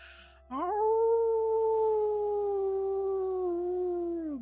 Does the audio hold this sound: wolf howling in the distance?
yes